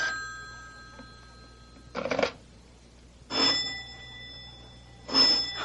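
An old-fashioned telephone bell rings in a 1970s radio drama, three separate short bursts of jangling ringing with quiet gaps between them, close and clear.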